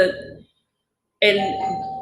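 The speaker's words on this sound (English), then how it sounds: "they're just going to have to keep ringing the doorbell" A doorbell chimes loudly nearby in a home, with two ringing tones separated by a short silence, the second one sustained.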